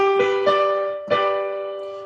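A major chord on a keyboard-like instrument: notes rise one after another, then sound together and ring out clearly.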